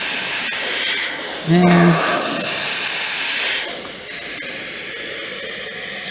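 An air compressor hisses loudly and steadily nearby while sealing a waterline, the spray-like rush rising and falling in intensity, with a brief tonal squeak partway through and a voice speaking a single word.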